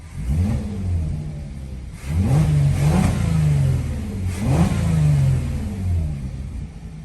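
A VW Atlas VR6 engine with a modified OEM airbox revs up three times in succession, each rise carrying a throaty intake roar before easing back to a rumbling idle, close and loud.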